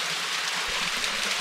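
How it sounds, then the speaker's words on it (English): A small waterfall at Lake Jocassee pours in a steady, close hiss of rushing water, with no voices over it. "Little waterfall action."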